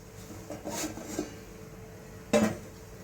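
A metal lid is set on a cooking pot of simmering vegetable curry, a few light clinks and scrapes followed by one louder, sharp metallic clatter near the end.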